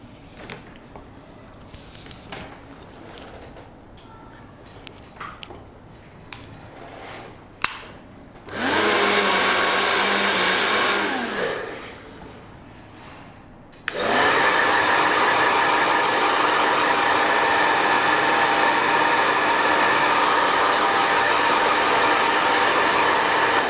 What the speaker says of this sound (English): I'll dry with the dryer